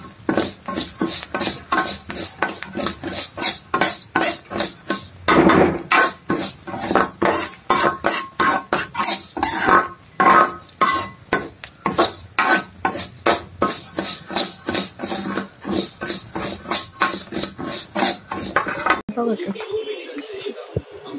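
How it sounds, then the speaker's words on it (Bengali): Rice fried in oil is stirred in a pan, with a rapid, continuous run of metal spatula scrapes and clinks against the pan that stops abruptly near the end. "তেল দিয়ে কিন্তু চাল ভাজি করলে অনেক সুন্দর হয়"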